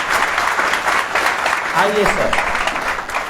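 An audience claps to welcome a guest at a talk on IAS preparation, a dense burst of applause filling the room while a host speaks over it.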